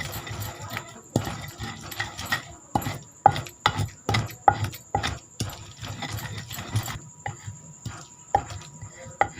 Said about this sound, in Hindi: ये हमने इमली शामिल कर दी और इसे अच्छे से हम मिक्स कर लेंगे।